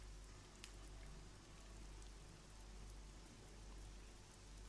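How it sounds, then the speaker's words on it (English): Gentle rain begins to pour, a steady, even hiss of falling drops with a low rumble beneath, continuous and close throughout. "looking up to the sky, under this gentle rain that starts to"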